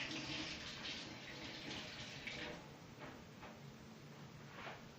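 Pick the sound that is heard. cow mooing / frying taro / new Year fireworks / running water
running water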